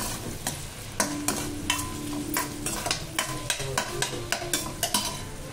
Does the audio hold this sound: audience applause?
no